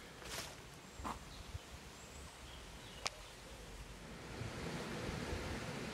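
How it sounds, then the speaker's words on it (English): Water runs along an old river leat, a small offshoot channel of the river beside an ancient gate, giving a soft, steady outdoor rush with a few faint clicks and no talking. "Hear the water running."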